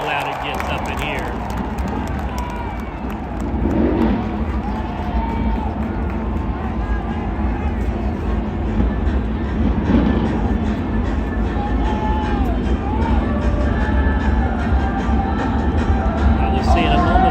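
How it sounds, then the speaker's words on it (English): Crowd noise from spectators at a night NASCAR dirt race at Bristol Motor Speedway, a steady, fairly subdued roar and babble of a half-full grandstand with no distinct cheering bursts. "the crowd is not very loud here tonight"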